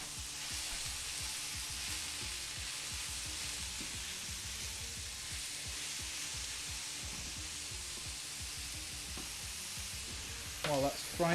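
Food fries in a pan during a home cooking stream, a steady close sizzle that runs unbroken for several seconds, with a few light clinks of utensils near the end.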